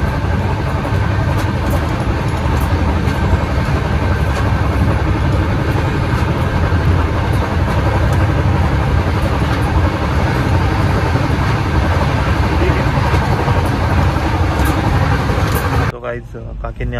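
Inside a moving passenger train, a constant low rumble of wheels and carriage noise runs steadily beneath people talking, ending with a brief shift in the final second.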